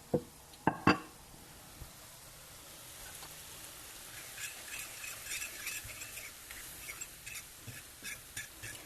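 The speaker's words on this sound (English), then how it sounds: "Keeping my temperature of my skillet up high enough to where it browns the flour." Flour browning in a hot skillet with pork drippings: a few sharp utensil clacks at the start, then a soft, steady sizzle and light scraping, close but quiet, with no talking.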